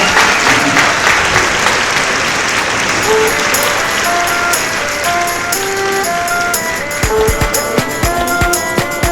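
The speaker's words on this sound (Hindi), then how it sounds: "ये जरा जोर से ताली बजाएं।" Loud, sustained applause from an audience at a Hindi book-launch ceremony for an epic poem, dense clapping running throughout with a few brief tonal notes and some crowd noise mixed in.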